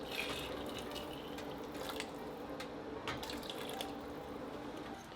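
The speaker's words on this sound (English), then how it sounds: "And then I add the water from the pressure cooker." Water from a pressure cooker pours into a pot of extremely spicy pepper soup with chicken feet and cow skin, a steady soft splashing stream lasting throughout with a few small drips, no talking.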